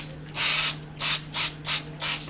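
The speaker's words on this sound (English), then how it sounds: "Trying to get an even spray, and you can hear how I'm going spray, spray, press, spray, press, spray, and go" A spray can hisses fixative onto a charcoal painting in five loud, close bursts. The first burst is longer, and short even pauses separate the rest.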